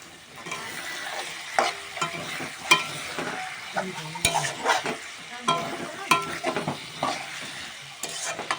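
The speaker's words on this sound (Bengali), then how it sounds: "চলো কষিয়ে নেওয়া যাক" Mutton sizzles and fries in a pan while being stirred, with a steady hiss broken by scraping strokes and spatula knocks against the pan at an uneven rhythm.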